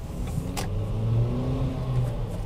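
A Ford EcoSport with a 2.0 16-valve engine rated up to 147 hp on ethanol accelerates on a city drive, its steady mid-pitched engine drone rising and straining under load, close and continuous with a brief click near the start.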